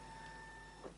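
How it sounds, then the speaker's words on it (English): An inkjet-style home printer running indoors, giving a faint steady mechanical whir with a high thin whine, alone without talk, with a small shuffle near the end. "the printer's making a noise"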